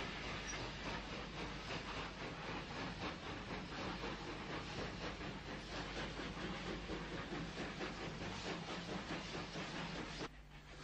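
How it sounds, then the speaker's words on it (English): Great Western steam locomotive City of Truro, the first British engine said to reach 100 mph, heard as a steady hissing, rumbling run with a dense rhythmic chuff and rail noise, fairly faint and continuous on old archive film. "reputedly the first British steam locomotive ever to reach 100 miles per hour"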